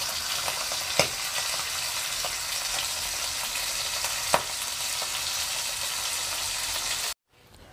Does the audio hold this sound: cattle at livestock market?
no